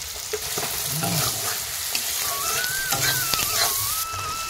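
Steady sizzling of food frying in hot oil, continuous and close, with occasional clinks and a faint high whine in the background.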